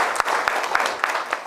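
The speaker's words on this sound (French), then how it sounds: "c'est le lieu pour moi de vous demander d'applaudir très fortement" Audience at a speech event in Niger claps, a dense patter of many hands with sharp individual claps standing out, moderately loud and continuous for the short moment.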